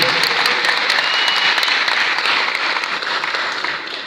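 A church congregation bursts into sustained applause and cheering for Jesus, a thick continuous roar of clapping and raised voices that holds steady before tapering off slightly at the close.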